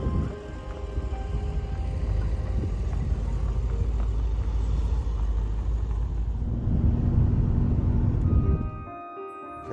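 A Porsche 928GT on a drive out to the Cotswolds rumbles along with a deep, steady engine roar and road noise from inside the car, swelling briefly louder before cutting off abruptly near the end, with no talking.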